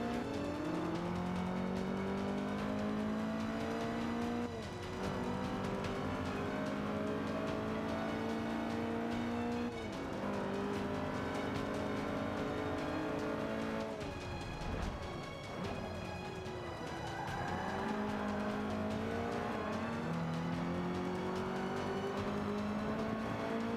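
Game-engine race cars in Forza 5 roar continuously at close range, engines revving up and down through gear changes with occasional tire squeal, a dense steady drone throughout with no talk.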